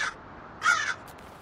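A crow-like bird in a Dark Souls-style gacha video game caws twice, a short harsh call followed by a louder, longer one, close and clear against near silence.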